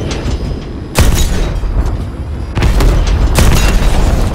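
Heavy explosions tear through a Call of Duty: Advanced Warfare battle as an enemy tank is destroyed, with loud booming blasts near the 1 and 2.6 second marks followed by sustained rumbling roar and no clear talk.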